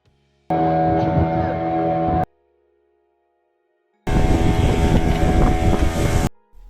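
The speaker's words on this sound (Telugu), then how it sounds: "సో బోట్ రైడింగ్ ఏంటంటే బాగా బీచ్ నుంచి అంజునా బీచ్ వరకు వెళ్తుంది" A boat ride at sea from Baga beach to Anjuna beach in Goa, with loud engine drone and rushing wind in two separate stretches and near silence between them.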